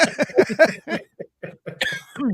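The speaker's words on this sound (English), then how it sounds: "I've got this awful cough." Someone coughs several times in a quick, harsh burst, close and loud, with a short throat-clearing sound near the end.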